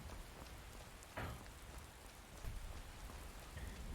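Steady rain falls in Whiterun in the video game Skyrim, a dense even hiss of drops hitting surfaces that continues unbroken, with a few slightly louder patters along the way and no voices.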